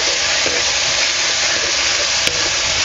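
Tomatoes sauté with masala in a hot pan, a loud, steady sizzle and hiss that runs without a break, with a faint stirring clack near the end.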